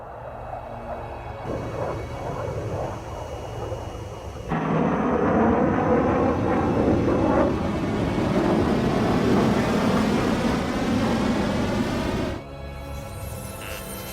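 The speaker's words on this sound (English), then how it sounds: "High-speed projectile launch from the aircraft." A railgun projectile fired from an aircraft in the flight-combat game Ace Combat 7: Skies Unknown, heard as a sudden swell of loud, sustained roaring rush lasting several seconds before cutting back to a lower steady drone.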